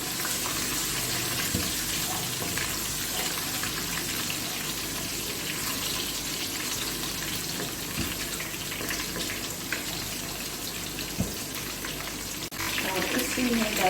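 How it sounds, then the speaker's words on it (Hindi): Green chillies frying with garlic in a pan for beef fry kaleji, a continuous soft sizzle and crackle with faint clinks, steady throughout and louder near the end. "अब इसको थोड़ा सा फ्राई करूंगी।"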